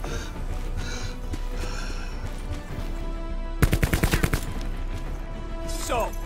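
Gunfire in the Call of Duty Black Ops 4 video game: a short rapid burst of loud automatic shots in the middle, over a continuous rumbling game soundscape.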